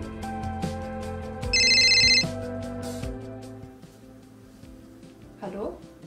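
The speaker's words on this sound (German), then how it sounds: "Dann bekam ich einen Anruf." A telephone rings with an incoming call, its bright electronic ringtone repeating in short bursts over a sustained musical backing, followed by a brief voice near the end.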